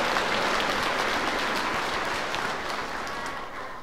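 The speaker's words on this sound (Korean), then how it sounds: "우리 모두 위해서 박수 부탁드립니다" A congregation claps steadily in sustained applause at a Christmas Eve night Mass in a church, gradually fading slightly toward the end.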